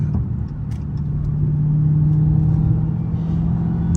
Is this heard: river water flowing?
no